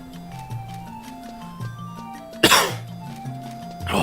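A single harsh, loud cough bursts out over soft background music from the Final Fantasy XI game, with a second cough starting at the very end.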